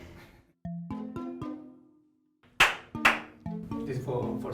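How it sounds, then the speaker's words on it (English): Two sharp, loud hand claps close by, marking camera sync during a documentary about clowns, set among spoken voices before and after. "This is for synchro on the cameras"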